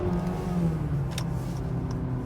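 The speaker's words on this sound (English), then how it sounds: "you can see the transmission rev matching on the downshifts for me" A 2015 Acura TLX 2.4 with an 8-speed dual-clutch transmission revs its engine to match on downshifts, a loud, steady engine drone rising and falling in pitch from inside the car.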